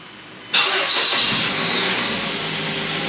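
A 2009 Mazda 3 engine cranks and catches after a moment of quiet, then settles into a loud, smooth, even idle close by, with no voices.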